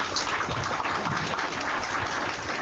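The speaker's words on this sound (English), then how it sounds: "Can I get a round of applause for offensive coordinator?" An audience at a quarterback club gathering gives a round of applause for the offensive coordinator, a steady wash of clapping lasting a couple of seconds.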